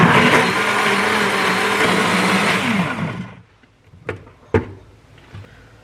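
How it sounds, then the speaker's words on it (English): A blender runs loud and steady on low, then medium, for about three seconds, then winds down and stops. A few sharp knocks follow in the quiet. "blend on low to get it going. And then move it up to medium for a minute and a half."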